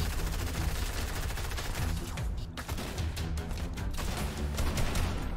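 Rapid bursts of shotgun fire from a charge shotgun in the Fortnite video game, loud and dense, with overlapping blasts filling the whole stretch alongside battle noise.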